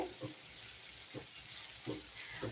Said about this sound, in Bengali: ক্যাপসিকামটা হালকা ভেজে দেখো